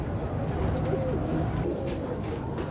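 Soft, low cooing from a pair of Kasuri pigeons repeats steadily over a dense outdoor background murmur, with no voices.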